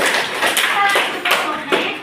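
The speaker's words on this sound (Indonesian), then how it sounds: "Tepuk tangan untuk adik Edwin." Children clap together in a classroom in a few short, uneven bursts of hand claps, with voices mixed in between them.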